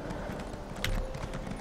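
A horse mount trots in The Elder Scrolls Online, its hooves clip-clopping in a quick, even rhythm under a steady game background for under two seconds, fairly close.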